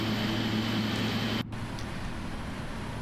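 Engine 1 of a PMDG 777-300ER spools up in the Prepar3D flight simulator, a steady loud whine and roar that cuts off sharply partway through, leaving quieter background noise.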